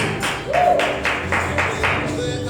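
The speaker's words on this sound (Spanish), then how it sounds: "Denle un aplauso a Jesús." A church congregation claps in a steady rhythm, each clap landing about every half second over a continuous bed of music and voices.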